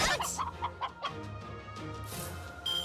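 Chickens in the video game Fate/Grand Order cluck in a quick run of short squawks at the start, then fade under steady game sounds.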